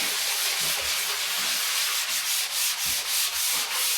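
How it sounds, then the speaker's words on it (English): A small hand sanding block rubs back and forth over a plasterboard patch in steady, rhythmic strokes, a close, loud, continuous scratchy hiss with no talking. "So I've just got one of these little sanding blocks. You can use a sander if you want."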